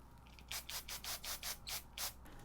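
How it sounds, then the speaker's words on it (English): A quick series of about seven short bursts of black hair spray, each a sharp hiss, evenly spaced and close, with no voices. "I'm going to clean it up with some black spray"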